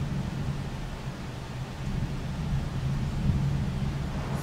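Thunder rolls in RollerCoaster Tycoon 2 as a soft, low, steady rumble that swells gently partway through, with no sharp crack.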